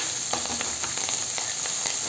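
Green chillies sizzle and fry in hot tempering oil alongside dried red chillies, a steady close crackling hiss with small popping bursts throughout, no voices.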